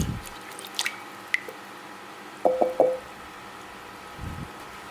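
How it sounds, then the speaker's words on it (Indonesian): Egg yolks are broken and stirred in a bowl with sugar and instant yeast for bread dough, giving a few faint wet clicks and a short run of sticky squishing taps, quiet and close. "Selanjutnya kuning telurnya dipecahin dulu supaya lebih mudah diaduk."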